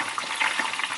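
Onions, peppers and other ingredients for Ghanaian cocoyam pottage fry in a pot over lowered heat, giving a steady close sizzle with faint crackles.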